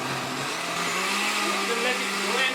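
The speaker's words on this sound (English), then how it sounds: "And I'm going to crank this blender again." A blender whirs at high speed, blending green juice with plenty of pineapple, a steady close motor drone whose pitch drifts slightly as the contents smooth out.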